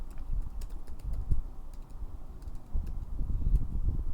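Keystrokes on a computer keyboard as a column name is entered in an Excel pivot table, a steady stream of soft, close clicks over a low room hum.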